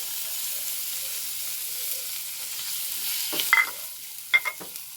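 Soft, constant sizzle of coconut and curry leaves frying in a pan, broken near the end by a couple of sharper stirring scrapes.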